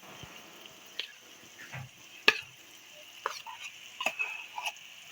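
Mashed boiled potatoes being stirred with lemon juice and spices into a samosa filling, giving soft intermittent scraping and squelching taps at close range, fairly quiet, with no talking.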